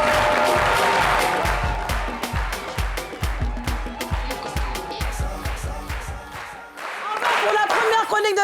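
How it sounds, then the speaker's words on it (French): Studio audience clapping on a French television show, a burst of sharp, rhythmic claps that gradually thins, then a brief swell of crowd cheering near the end. "Est-ce qu'on peut les applaudir"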